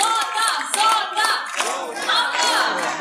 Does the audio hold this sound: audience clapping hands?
yes